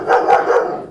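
A dog barks a few times in quick succession, fairly close and loud, during a home yoga class.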